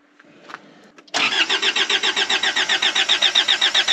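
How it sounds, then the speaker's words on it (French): A car engine struggles to start on a morning, a rapid pulsing churn of the starter that cranks on and on without catching, loud and close after a brief quiet lead-in. "La voiture a du mal à démarrer ce matin."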